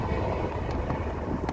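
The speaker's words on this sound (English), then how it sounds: "got us a train here." A Norfolk Southern freight train rolls past close by as a steady, loud broadband rumble, with wind buffeting the microphone throughout and no talk.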